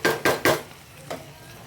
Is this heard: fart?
no